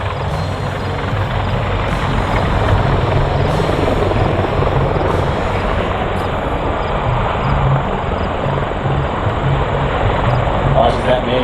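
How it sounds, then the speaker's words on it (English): A US Navy MH-53E Sea Dragon helicopter at an airshow roars loudly and continuously, its large main rotor and engines forming a dense, steady drone with a faint high whine above. "Watch as that main rotor head with a diameter of over 79 feet rotates at almost 180 RPM."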